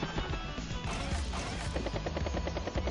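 A T-Copter being destroyed in the video game Advance Wars: Days of Ruin: a dense, loud burst of crashing impacts and rapid rattling thuds, steady throughout with no talking.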